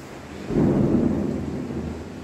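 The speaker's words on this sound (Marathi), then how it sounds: "पाऊस इतका जोराचा चालू आहे की विषयच नाहीये." Heavy rain pours steadily during a Diwali night, swelling into a broad low rumble partway through that could be distant thunder, continuous and fairly loud with no voices.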